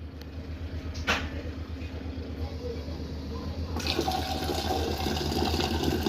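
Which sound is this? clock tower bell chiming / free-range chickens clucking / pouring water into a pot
pouring water into a pot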